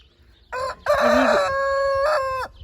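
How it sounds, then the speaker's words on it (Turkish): A white rooster in a village crows loudly and close by, one long drawn-out cock-a-doodle-doo with a short opening note, no voices over it. "Bu da horoz değil mi beyaz?"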